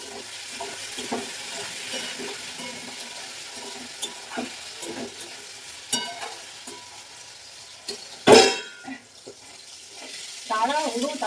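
Paneer fries in a little oil with a steady crackling sizzle, punctuated by scattered stirring taps and one loud close clatter, and a brief burst of rustling near the end.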